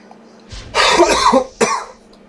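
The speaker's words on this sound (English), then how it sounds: "Oh god, hope I'm not getting a cough." A person coughs in two harsh bursts, a longer fit followed by a shorter single cough, close and loud with no speech.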